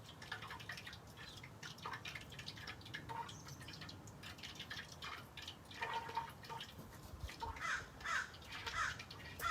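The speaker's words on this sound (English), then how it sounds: "It's kind of bubbling." Homemade ghee bubbling in a pan as it nears done, with irregular soft pops and crackles that build in clusters toward the end over a low hiss.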